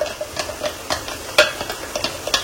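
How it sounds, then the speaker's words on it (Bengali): Cashew paste being stirred into Kashmiri dum aloo in an Agaro nonstick kadai: close, steady spatula scrapes and taps in a quick rhythm, about a dozen strokes, with a faint sizzle beneath and no talking. "তো এখানে 100 গ্রাম কাজু বাটা আমরা এর মধ্যে মিশিয়ে দিলাম।"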